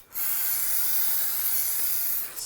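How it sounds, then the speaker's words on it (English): An aerosol can of brake parts cleaner sprays onto a brake rotor from a 1992-present Ford E-250, a single steady close hiss lasting about two seconds before cutting off. "Take some brake parts cleaner."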